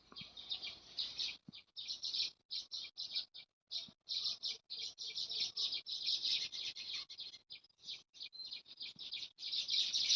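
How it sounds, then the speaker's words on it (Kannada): Many small birds chirp and sing close by outdoors, a dense run of high tweets in rapid bursts with brief gaps, continuing steadily and alone without voices. "ಪಕ್ಕಿಲ್ನ ಪೂರ ಸೌಂಡ್ ಕೇಂಡರದು ನಿಕುಲು"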